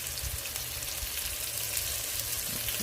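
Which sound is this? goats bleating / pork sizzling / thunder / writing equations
pork sizzling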